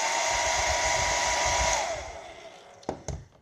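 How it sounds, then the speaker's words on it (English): A hair dryer heats nail wraps with a loud, steady blowing whine that winds down and shuts off, followed by a couple of small handling clicks. "I'm going to use a hairdryer to show you how simple this is"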